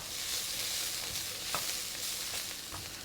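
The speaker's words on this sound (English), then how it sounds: "We'll cook this until the onion is a little bit translucent before we add in the rest of the ingredients." Chopped onion frying in a pan, a soft steady sizzle with occasional scrapes and taps of a utensil stirring, fairly quiet and close, with no talking.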